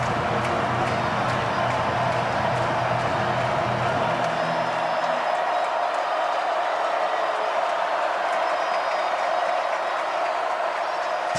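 A football stadium crowd roars continuously at the 2024 Palmetto Bowl between South Carolina and Clemson, a loud unbroken wall of cheering that stays dense throughout.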